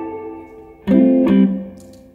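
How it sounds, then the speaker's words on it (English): An electric guitar runs through a spring reverb effect, one chord then a second strummed, ringing loudly with a short splashy tail, heard alone. "Spring reverb, which I use all the time."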